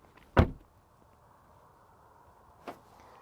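A 2021 Land Rover Discovery R-Dynamic rear door gives a sharp close-and-latch thud, then after a quiet pause a shorter, fainter lock click, heard near with no talk.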